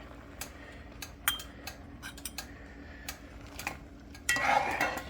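Cowboy candy peppers being spooned into jars with a slotted spoon: sparse, sharp clinks of metal against glass spaced irregularly, ending in a brief burst of wet scraping and clatter.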